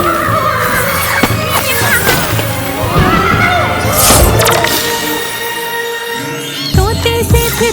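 A horse whinnies amid busy music and effects, with a sharp squealing burst midway and thumping sounds near the end.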